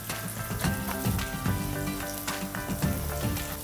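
Bird's eye chilies and shallots sizzling and frying in a pan, a dense, continuous crackle with occasional stirring scrapes, close and steady.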